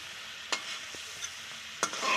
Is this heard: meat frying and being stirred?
yes